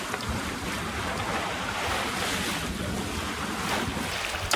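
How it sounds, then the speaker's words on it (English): A catamaran passes by at sea, its sound lost in a steady wash of wind and waves, with a constant broad rushing noise and no distinct engine note or talking. "Catamaran going by,"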